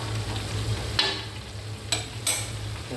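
Food frying in a pan for a late-night home dinner, heard as a continuous close sizzle with a low hum beneath and a few sharp stirring scrapes.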